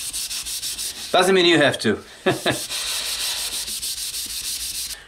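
Abrasive pads scrubbing the surface of an aged BMW motorcycle helmet, a continuous rasping rub that runs throughout, briefly broken by a spoken remark partway through.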